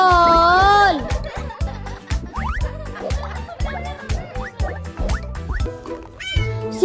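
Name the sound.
cat meowing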